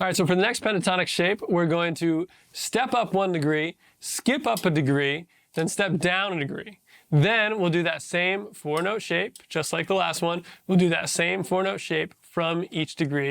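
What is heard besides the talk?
No everyday noises stand out.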